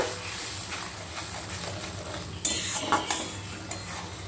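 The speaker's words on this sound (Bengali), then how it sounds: "ওই তেলের ভেতরে কিন্তু আমি এবার এই ব্যাটারটা ঢেলে দিলাম ব্যাটারটা দিয়ে একটু নেড়ে নেব" Batter poured into hot mustard oil in a pan for a mustard hilsa fish dish, then stirred, with a soft steady sizzle under a few sharper scraping and clinking spoon strokes near the middle.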